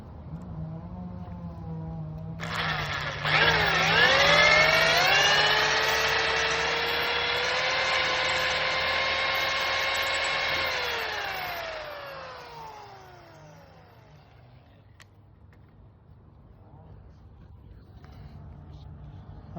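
A power tool cuts into pressure-treated lumber for a pull-up and dip bar build, with a rising high whine that holds steady for several seconds, then winds down.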